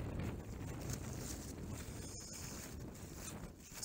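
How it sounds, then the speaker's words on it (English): Steady wind buffets the microphone outdoors on Catbells mountain, a faint continuous rushing with gentle gusts and no voices. "It's a little bit windy"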